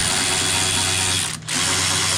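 Ratchet working on T30 Torx bolts holding a Cadillac CTS door lock actuator, a steady, loud buzzing ratchet whir that breaks off briefly near the end, then resumes.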